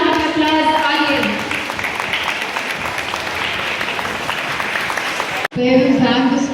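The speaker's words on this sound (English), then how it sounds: "So can we have a huge round of applause, audience?" Audience applause at a school chess championship closing event, a full burst of steady clapping under a speaker's voice, breaking off briefly before talk resumes.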